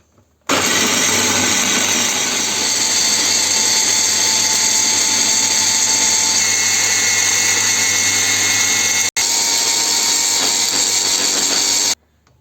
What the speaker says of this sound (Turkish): Evet artık çırpmaya geçebilirim.